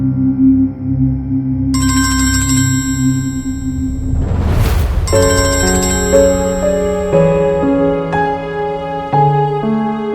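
A mobile phone ringtone plays for an incoming call, a loud melodic electronic tune with stepped tones and a brief whooshing swell midway, continuous and without talk.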